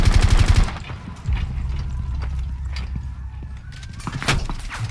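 Gunfire in the tactical shooter Rainbow Six Siege, a burst of rapid shots at the start followed by muffled thuds and scattered impacts through a wall, with faint background game sounds.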